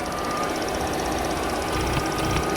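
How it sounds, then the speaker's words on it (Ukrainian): A Volkswagen Golf 4 1.6 MPI petrol engine idles steadily with a constant low rumble and faint rhythmic ticking throughout, no voices. "Робота двигуна"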